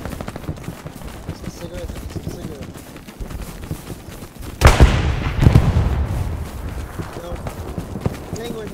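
Gunfire in the Hell Let Loose video game, set in the Hurtgen Forest, sounds as a loud burst of shots and a blast, with rumbling combat and steady rustling movement all around while players talk over it.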